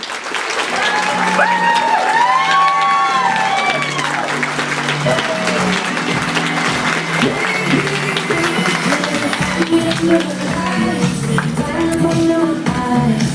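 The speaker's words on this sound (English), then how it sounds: "Let's give another round of applause for our rising star" An awards-event crowd claps steadily for a rising-star honoree, the loud, continuous applause threaded with a few whistles and cheering voices throughout.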